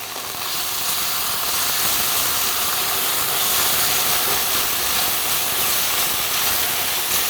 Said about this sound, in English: I'm going to add my tomato paste so that it cooks off with the onion and garlic